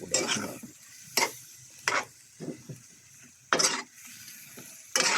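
Chicken being stirred in a cooking pan, several distinct scraping strokes of a spoon spaced apart over a faint background sizzle.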